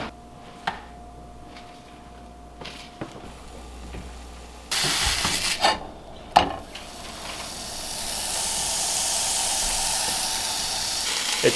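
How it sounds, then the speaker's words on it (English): A homemade sausage patty seasoned with sage and salt, made from backyard-raised pigs, goes into a pan. A few sharp clanks and knocks come first, then a loud, steady sizzle builds and holds. "Let's get a patty frying up."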